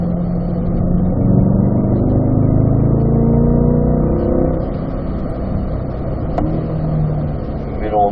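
Race car on a track working through turn 5 after dropping to fourth gear, its engine note close and loud, dipping and climbing in pitch as the car rotates mid-corner, with faint talk behind it.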